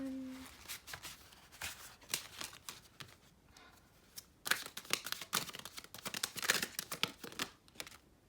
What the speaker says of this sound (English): I already shuffled this, but I'm just going to do it again.